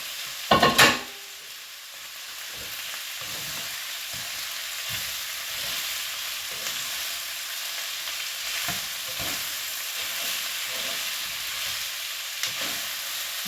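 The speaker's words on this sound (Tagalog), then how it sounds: "Isabay natin na itong pork para igisa ng maigi at malasahan yung bawang at saka" Pork sautéed with garlic and a whole onion, sizzling steadily in a pan with a sharp clatter at the start and occasional stirring scrapes, close up and without talk.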